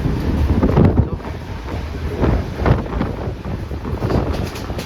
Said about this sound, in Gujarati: સ્પીડ તો જો હવા આવે છે બતાવું તમને જો